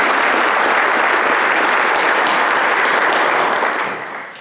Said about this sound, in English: if you wouldn't mind giving her a round of applause for doing so